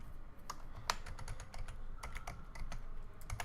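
Computer keyboard typing a Linux shell command, a quiet run of irregular key clicks with brief pauses, close and alone.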